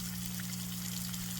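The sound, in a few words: aquaponics pump returning water from sump into grow bed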